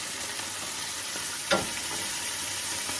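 Broccoli bimi stir-frying in a crowded pan over high heat, a loud continuous close sizzle with a brief sharp scrape of stirring partway through.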